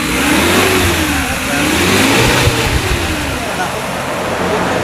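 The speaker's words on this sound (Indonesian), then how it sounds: "Suara mesin kita gas, raungannya ini masih aman, masih suaranya masih halus gitu." A 2012 Suzuki Carry Futura 1.5 pickup engine revs up and settles in smooth, rising and falling waves, loud and close, with no roughness or metallic rattle.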